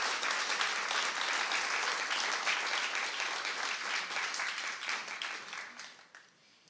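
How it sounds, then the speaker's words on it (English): A crowd at a conference applauds a panel with dense, sustained clapping that holds steady and then fades out toward the end. "So a round of applause and our big thanks for everyone"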